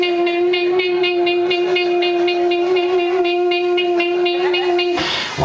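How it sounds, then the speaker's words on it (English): A train creeping forward a short distance gives off a loud, steady, whining tone with strong harmonics that holds evenly and then breaks off abruptly near the end, with no talking. "the sound of the train just moving like 2 feet"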